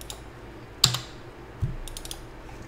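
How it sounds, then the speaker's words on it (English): Typing on a computer keyboard, with a few sparse, distinct key clicks over a quiet room hum. "first thing I'm going to do is type in Java C, press Enter"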